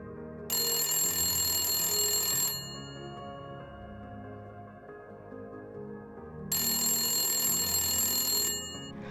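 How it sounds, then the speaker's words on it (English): An old-fashioned mechanical telephone bell rings loudly in two long bursts of about two seconds each, separated by a pause with a low background hum, inside a building in a medieval Pyrenean town. "we can make international phone calls with this ancient telephone"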